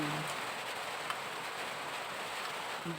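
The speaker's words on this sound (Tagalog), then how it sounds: "Hindi pa talaga tumitigil ang ulan guys." Steady rain hisses down without a break, a dense, even wash of drops close by with no voices.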